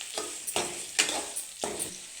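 Onions, added after chillies, fry in a pan and are stirred with a spoon. A soft sizzle runs underneath and is broken by four scraping stirs at close range, with no talking.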